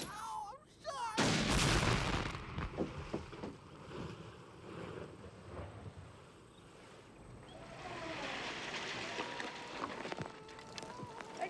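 A dynamite blast bursts out loud and broad, then decays into a long rumbling, rolling wash of debris and echo, with shouting voices following amid the aftermath.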